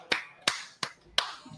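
Four separate, sharp hand claps, spaced roughly evenly and fairly close, on a live cigar show episode, each a crisp slap with quiet pauses between.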